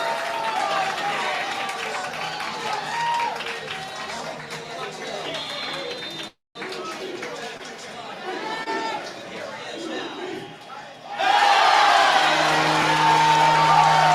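Stadium crowd at a live penalty kick shootout cheering and whooping loudly, with a dense roar of chatter that briefly cuts out, then swells again near the end.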